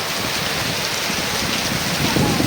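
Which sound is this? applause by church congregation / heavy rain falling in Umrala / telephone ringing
heavy rain falling in Umrala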